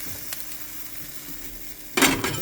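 Coriander frying in a hot pan while roasting ingredients for a Goan prawn starter: a low, steady sizzle, then a louder burst of crackling and stirring near the end.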